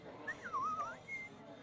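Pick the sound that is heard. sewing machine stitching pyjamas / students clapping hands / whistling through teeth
whistling through teeth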